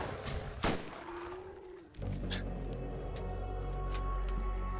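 Submachine gun fire in Borderlands, a burst of sharp shots up front followed by a dense, steady roar of game action and explosions that fills the rest of the moment.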